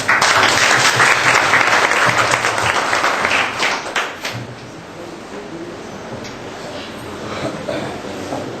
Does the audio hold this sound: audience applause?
yes